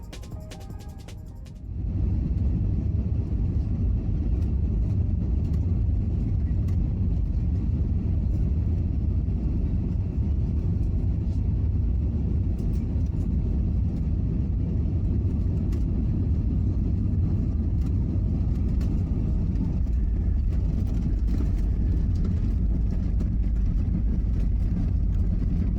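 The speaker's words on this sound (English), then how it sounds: "Enjoy this landing with a very smooth touchdown on runway 11 left." Vietravel Airlines Airbus A320 touching down on runway 11 left, heard from inside the cabin as a loud steady roar of engine and rolling rumble that swells suddenly after a quieter opening and holds to the end.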